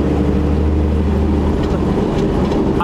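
A first-generation Cummins diesel truck with a five-speed manual drives along, its engine and road noise forming a loud, steady rumble from inside the cab.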